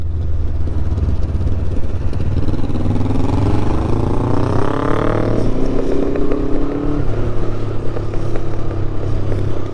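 A motorcycle engine drones steadily and loud on the mountain road to the Great St Bernard Pass, its pitch climbing as it revs up, dropping, then settling into a constant hum over road noise.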